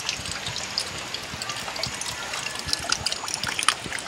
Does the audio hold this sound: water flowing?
yes